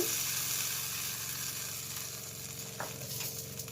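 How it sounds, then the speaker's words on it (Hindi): Steady sizzling and crackling of spices frying in hot oil for an Indian tadka tempering, close and continuous, with a couple of light clinks partway through. "अब मैं तड़के में ये मसाले लगा देती हूँ।"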